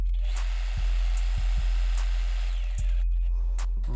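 A Facilita Pro 4432 overlock machine sews a hem with a steady, loud motor hum and rapid stitching whir that stops near the end, with a few soft knocks along the way.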